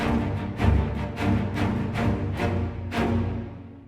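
Metropolis Ark 3 low strings play a dark film-score line in the style of The Dark Knight Rises, with a steady series of roughly eight rhythmic accented strokes over a sustained low drone, loud and alone.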